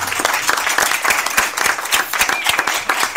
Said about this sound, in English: We applaud you once again.